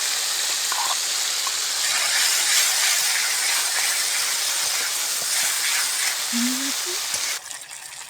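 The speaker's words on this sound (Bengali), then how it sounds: "বেটে রেখেছিলাম যে মশলাটা ওই মশলাটা এখন তেলের মধ্যে দিয়ে দেব" Ground spice paste hitting hot mustard oil for a Bengali pea kofta curry gives a loud, steady hissing sizzle that fills the whole stretch before easing off near the end.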